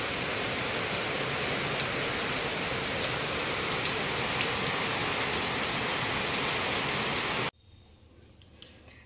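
Heavy rain falls in a dense, unbroken roar of drops hitting surfaces nearby, loud and steady for over seven seconds before cutting off to a quiet background.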